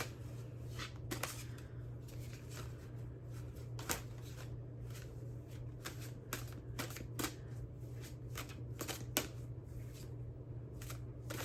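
A deck of playing cards is shuffled close up, with repeated crisp riffling snaps and flutters over a steady low background hum, continuing throughout without speech.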